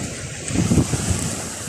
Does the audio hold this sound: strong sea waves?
yes